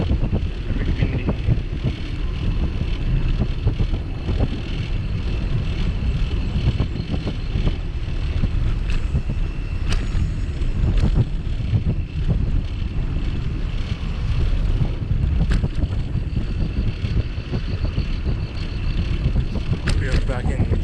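Steady wind buffeting and rushing past during an evening bike ride in Taipei's Jingmei area on a cool, breezy night, a constant roar with occasional thumps throughout.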